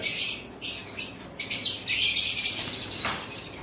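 Cockatiels in a breeding pair enclosure, fawn and pied birds, flutter their wings in repeated bursts mixed with bright chirps and tweets, close and fairly loud, with no talk.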